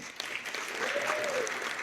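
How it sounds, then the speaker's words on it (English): A crowd claps steadily for a couple of seconds, a soft, continuous patter of applause heard from within the audience. "Clap if you haven't seen it before."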